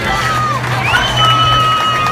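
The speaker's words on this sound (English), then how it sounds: "Have a big round of applause for the Knights from Lower Merion Elementary" A lively crowd at a youth ice hockey event cheers and shouts continuously, with high whistle-like tones rising above the noisy roar.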